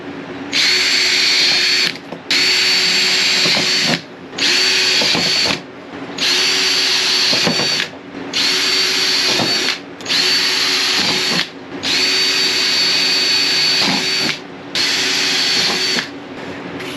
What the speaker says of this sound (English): So we just start drilling them out.